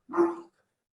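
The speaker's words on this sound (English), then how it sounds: "Sorry about the dog, he's a little excited." An excited dog gives a single short, close bark that cuts off quickly, followed by silence.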